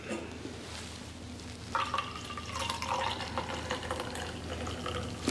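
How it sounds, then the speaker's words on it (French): Ground coffee being poured, likely from a press-style pot, with a soft steady liquid stream and light splashing close by, gently rising and trickling on for several seconds. "On peut verser le café."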